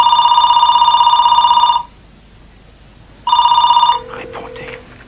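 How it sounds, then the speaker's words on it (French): A telephone rings in loud, steady electronic bursts, one long ring, a pause, then a second ring cut short, followed by faint background sounds. "Réponds, mon Dieu, prends le téléphone."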